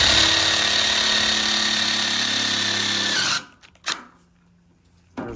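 A power drill whines steadily and close as it drives screws into gutter protection, then stops abruptly, leaving near-silence broken by a short clunk and a faint restart at the end.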